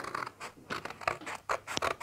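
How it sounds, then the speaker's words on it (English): Several short crisp snips of scissors cutting through card, close up, in quick irregular bursts with no talking. "I will then take my scissors"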